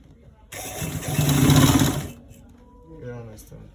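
A sewing machine stitches elastic onto the back of a waistband in one fast whirring run of about a second and a half, then drops to soft clicks and handling noises.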